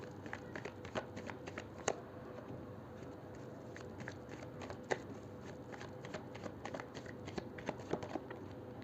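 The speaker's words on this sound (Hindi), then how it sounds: "चलिए पहले निकाल लेते हैं कार्ड्स" Tarot cards are shuffled and drawn by hand, giving soft, irregular papery flicks and light taps over a quiet background, with no talk.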